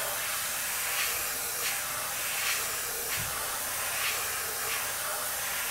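An airbrush sprays paint onto stripes on an RC car body, giving a steady close hiss with faint rhythmic pulses as the spray passes repeatedly.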